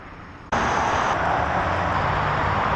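Heavy highway traffic on I-75 beside a residential subdivision, a loud, constant roadway roar that cuts in abruptly and holds steady without any break.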